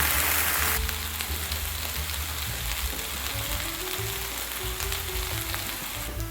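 Bacon frying in a pan, giving a dense, steady crackling sizzle that runs the whole time, close and fairly loud with no voices.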